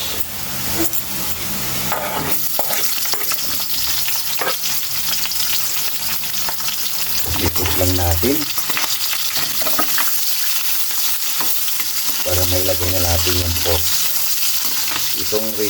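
Onion added to a pan where garlic has been frying golden brown gives a loud, continuous sizzle with stirring and scraping, plus a few tonal clatters and brief louder bursts.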